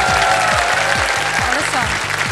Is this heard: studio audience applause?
yes